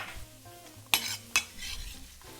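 Sliced garlic frying in a frying pan: a quiet, faint sizzle broken by two sharp utensil clacks against the pan in quick succession.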